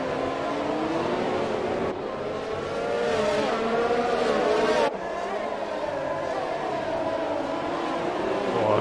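Race cars in a PC racing game at the Marina Bay Street Circuit in Singapore, engines whining and revving continuously with shifting pitch and brief gear changes, loud and close throughout.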